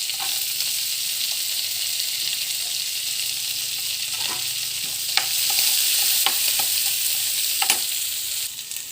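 Green beans and curry leaves fry and sizzle steadily in a pan for a chicken biryani, with a constant hiss and occasional scrape and clack of a stirring spoon, close and alone.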